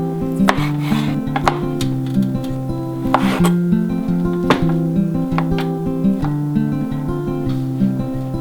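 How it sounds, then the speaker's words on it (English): A dull knife cutting through lasagna cheese, making repeated sharp taps and scrapes against a board or dish in an uneven rhythm, close and clear over music playing in the background. "now we're gonna cut it with a dull knife"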